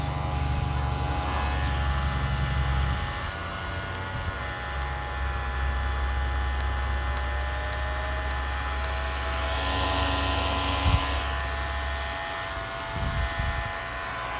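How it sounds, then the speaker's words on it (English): A pet grooming vacuum runs with a steady motor hum and airy whoosh continuously at moderate volume, with a low drone shifting partway through and a few faint bumps near the end. "Turn on the vacuum."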